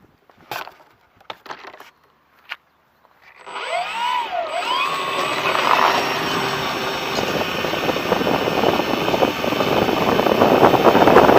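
A Multiplex FunCub radio-controlled plane takes off, its small electric motor whining up from silence after a few clicks and rising into a steady buzzing drone that grows louder as the model lifts away.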